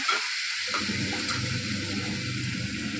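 Food sizzles in a pan, starting abruptly after a brief pause and continuing as a steady, close hiss with faint crackles.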